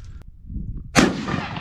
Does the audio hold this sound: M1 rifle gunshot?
yes